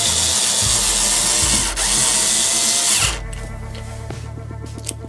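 A cordless screwdriver backs screws out near the feet of a Siemens IQ700 washing machine. A loud, close, continuous motor whir runs for about three seconds, then cuts off, leaving quieter mechanical ticks.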